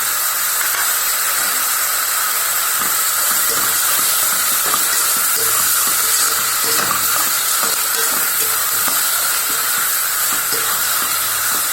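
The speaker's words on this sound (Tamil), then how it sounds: "அதுதான் நல்லா மைய வதக்கணும். அப்போ தான் நல்லாயிருக்கும். கருவேப்பிலை போட்டுடலாம்." Onion-tomato masala with curry leaves sautéing in a pan for chicken kulambu gives a loud, steady hiss and sizzle close by, with soft scraping stir strokes scattered throughout and no voices.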